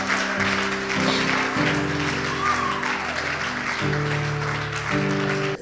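Church congregation applauding during a worship service, a moderate wash of clapping and crowd noise mixed with sustained organ or keyboard chords, some voices faintly audible.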